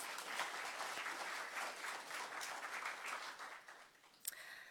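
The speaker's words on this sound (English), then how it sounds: "Give her a round of applause." A symposium audience gives a round of applause, steady, moderately distant clapping that holds throughout the stretch, with a single sharp louder clap near the end.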